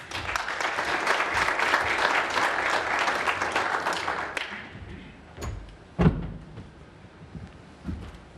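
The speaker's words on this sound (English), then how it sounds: "for the applause from the crowd here" Audience applause at a National Press Club address: a steady round of clapping for about four seconds fades out, followed by scattered thumps and knocks near the lectern.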